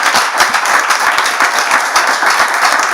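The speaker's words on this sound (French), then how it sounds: "On peut applaudir très fort, bien sûr," A studio audience at a French talk show applauds, dense steady clapping close and loud throughout, with no voices on top.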